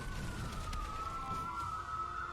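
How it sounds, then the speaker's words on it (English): A police car siren sounds faintly in the distance outside as a steady, continuous wail held under low background noise. "I'm sorry for hearing that siren."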